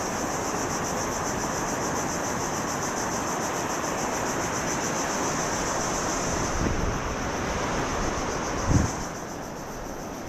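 Rough ocean surf at high tide after a storm, heard from the shore as a loud, continuous roar of breaking waves with wind noise, and a faint insect chirp under it.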